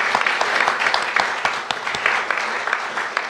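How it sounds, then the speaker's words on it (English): A live podcast audience applauds special guests with a dense, close patter of many clapping hands that holds steady for a few seconds. "So a round of applause for them."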